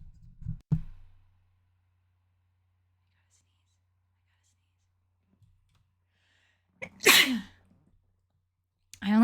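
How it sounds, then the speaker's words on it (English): One sharp, loud sneeze bursts out near the end of a quiet stretch, after a brief whispered sound at the start, close to the microphone. "I only didn't sneeze on cam because I knew that it wouldn't let me sneeze."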